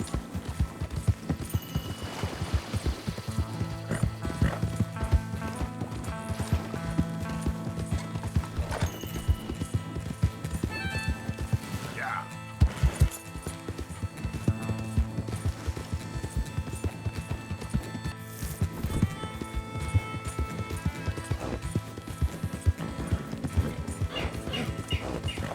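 Horse hooves clip-clop steadily in Red Dead Redemption 2, a continuous rhythmic trot with occasional whinnies and game sounds layered over it.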